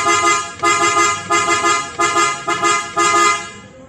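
An aftermarket PIAA horn on a Nissan Terra honks in a series of short, loud blasts, about seven toots in a stop-start rhythm, close by with no talking.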